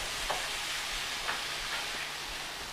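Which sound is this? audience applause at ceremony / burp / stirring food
stirring food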